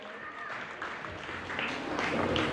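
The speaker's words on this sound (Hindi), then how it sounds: "तो एक बार सतपाल जी के लिए पुनः तालियां बजाकर उनका भी स्वागत किया जाए।" A school audience applauds to welcome teacher Satpal at a Holi celebration event, steady dense clapping from a crowd filling the moment, with voices mixed in.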